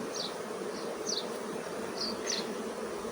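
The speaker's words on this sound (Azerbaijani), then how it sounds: "tarlaçı arılar nə cür bu ailəyə gəlib" Forager honey bees stream into a hive box, a steady close droning hum with several individual bees buzzing past in brief rising whines over the constant background buzz.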